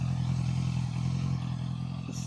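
A Honda CB650F motorcycle fitted with a new exhaust runs with a steady, close, low rumbling drone throughout, no voices over it.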